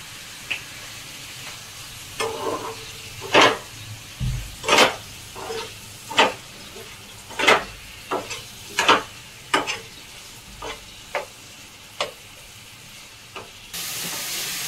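Tomato goes into a spice paste frying in a pan, giving a series of sharp sizzling bursts and stirring scrapes spaced a second or so apart over a low hiss.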